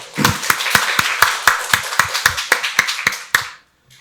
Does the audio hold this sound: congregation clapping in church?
yes